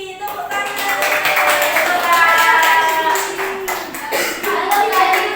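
A class of schoolchildren gives light, scattered clapping to welcome a guest into the room. The claps sit under loud, overlapping voices throughout.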